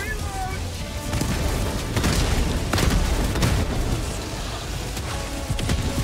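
Mortar explosions boom repeatedly in the Helldivers video game, a dense run of heavy blasts and rumbling impacts, loud and continuous under frantic shouted talk from the players.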